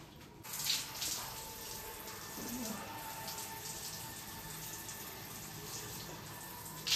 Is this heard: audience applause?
no